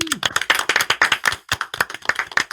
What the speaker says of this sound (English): Let's give a warm round of applause to Clayton.